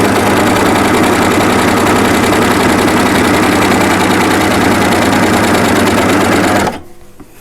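An overlocker serger stitching fabric for a drawstring bag makes a loud, fast, continuous mechanical chatter close up, running steadily for several seconds before stopping abruptly.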